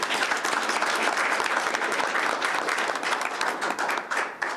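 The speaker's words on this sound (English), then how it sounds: "Let's give President Brewer a round of applause." A school board meeting audience applauds the board president, dense continuous clapping from many hands filling the room, loud and steady throughout with no speech.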